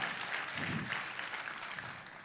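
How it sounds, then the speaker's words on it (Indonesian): A church congregation applauds for Jesus during a worship service, a steady wash of many hands clapping, loud and continuous throughout the short stretch, with no talk over it. "Tepuk tangannya boleh lebih dahsyat lagi buat Yesus Tuhan kita."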